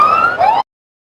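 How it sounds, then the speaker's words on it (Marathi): A siren gives one short, loud, wavering blast and then cuts off abruptly. It is sounded at a local cricket tournament match, the Saibaba Chashak 2025, to signal a free hit after a no ball. "सायरन वाजवला, याचा अर्थ पुढचा बॉल फ्री हिट असणार आहे"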